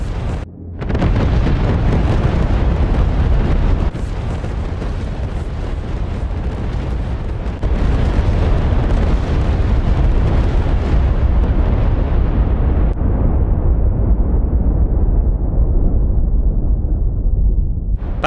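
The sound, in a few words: huge bomb explosion, MOAB dropped from C-130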